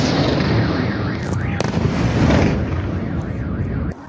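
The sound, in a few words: explosions during Russian missile and Shahed drone attack on Kyiv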